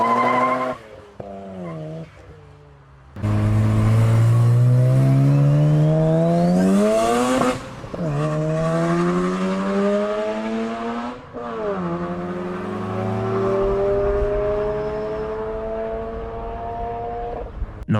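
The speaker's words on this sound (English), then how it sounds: "Instead of pistons moving up and down, creating that traditional rhythm, it's spinning rotors to create combustion." A rotary-engine sports car with spinning rotors screams at high rpm, loud and close, climbing through several sharp upshifts in a smooth, high-pitched rising whine, with tyre squeal mixed in.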